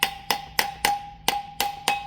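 A metal hammer strikes the rear axle seal on a Shuttlewagon, landing seven sharp, ringing metallic blows in a steady rhythm about every third of a second, loud and close with no talk.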